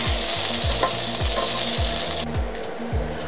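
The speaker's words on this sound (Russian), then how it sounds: "картофель обжариваю до золотистой корочки" Boiled potato wedges frying in vegetable oil in a pan: a steady bright sizzle with repeated rhythmic scraping as the pieces are stirred, close up and with no talking.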